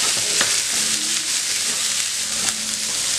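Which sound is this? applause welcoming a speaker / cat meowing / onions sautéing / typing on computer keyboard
onions sautéing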